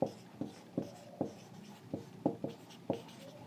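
Chalk or marker strokes on a board during a physics lesson on turning effect and moments, a series of short scratchy taps at an uneven rhythm, close and fairly quiet, with no talking.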